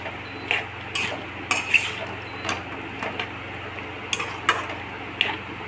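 Lemon pickle stirred in a pan over low heat, with irregular close scrapes and clinks of a spoon against the metal over a soft, low background hum.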